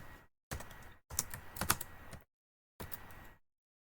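A computer keyboard typed in short close bursts of rapid key clicks, separated by brief silent pauses, with no talking.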